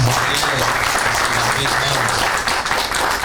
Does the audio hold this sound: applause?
yes